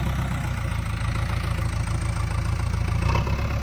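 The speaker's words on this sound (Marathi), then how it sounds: "आता जी सी बी चाललेला आहे खाली" A JCB excavator engine runs at a rural road construction site, a steady low diesel rumble with a slight rhythmic throb that swells briefly near the end, heard alone and fairly close.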